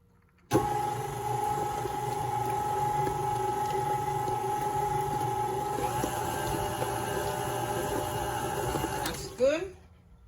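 A steady electric mixer with beater attachment whirs continuously while mixing cheesecake batter for White Russian mini cheesecakes, a constant motor drone that runs close and fairly loud, then winds down near the end.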